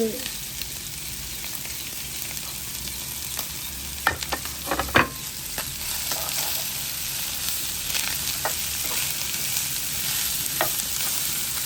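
Onions sizzle steadily in a hot pan while a utensil scrapes and stirs with occasional clicks, fairly close.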